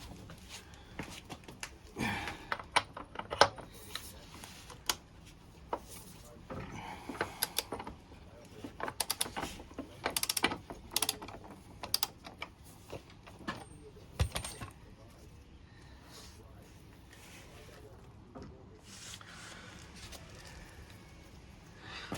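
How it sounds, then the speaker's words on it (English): A spanner works the rear spindle bolt on a KTM 1290 Super Adventure motorcycle, giving scattered metallic clicks, ratcheting and clinks of tools in bursts, close by and fairly quiet. "first we'll loosen the spindle bolt"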